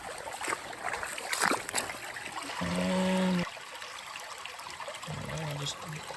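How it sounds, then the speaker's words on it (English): Dirt is dumped into a water-filled gold pan, making a brief gurgling splash and trickle of water. The sound is close and short, with small knocks and scrapes around it. "Now to dump it in the pan."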